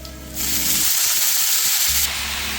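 Chopped leafy greens dropped into a pan of frying onion and garlic, a sudden loud steamy sizzle and hiss that swells up sharply, holds for over a second, then settles to a steadier frying crackle.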